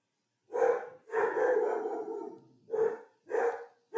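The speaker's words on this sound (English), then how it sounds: "my dogs are barking" Pet dogs barking indoors, a few loud, close barks and longer yelping calls arriving in separate bursts with short quiet gaps between them.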